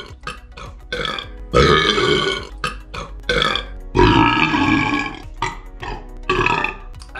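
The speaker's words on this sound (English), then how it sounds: "so I'm burping a lot of that up" A series of loud, drawn-out burps, several in a row with short pauses between, close up and with no talking.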